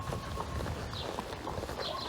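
A horse walks under a rider during a riding lesson, its hooves clopping in an even, muffled rhythm through steady outdoor noise.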